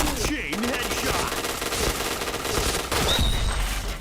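Gunfire from the shooting game Point Blank rattles in rapid bursts through most of the stretch, mixed with game effects and faint background voices.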